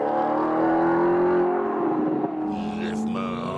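A car's exhaust revs and roars, rising and falling engine tones that swell strongly before easing off and changing pitch toward the end, close and loud.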